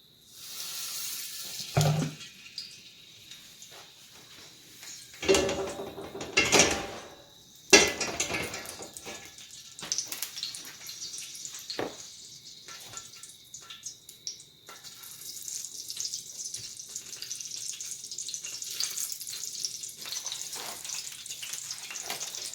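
Cube steaks frying in a hot pan give a steady crackling sizzle throughout, with a few louder clatters and splashes of meat landing and pan handling, close and continuous.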